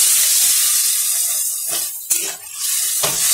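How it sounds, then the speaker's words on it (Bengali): Water poured into a pan of frying potatoes with turmeric for alu posto, producing a loud, steady steam hiss and sizzle throughout, with a few sharp spatters and stirring sounds near the end. "ভাজা ভাজা হয়ে গেছে, আমি এতে জল দিয়ে দিচ্ছি আলুটা সিদ্ধ হওয়ার জন্য।"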